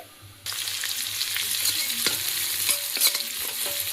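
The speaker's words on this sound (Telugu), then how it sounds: "ఇవి కొంచెం లైట్ కలర్లో బ్రౌన్ కలర్లో అయితే ఫ్రై చేసుకోవాలి" A quiet moment gives way to a sudden loud hiss as chopped onions hit hot oil, then a steady close sizzle with occasional stirring clicks.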